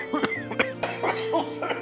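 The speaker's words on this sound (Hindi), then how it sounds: "ले, फिर शुरू हो गई ना खांसी।" A few short, harsh coughs in quick succession from a person indoors in a drama scene, close and fairly loud against a quiet room background.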